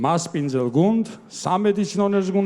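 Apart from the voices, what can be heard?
None of the usual background noises is heard.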